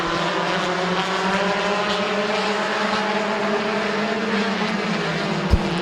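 Compact race cars roar around the oval at Midvale Speedway. Several engines drone together at high revs, close and steady, with a brief thump near the end.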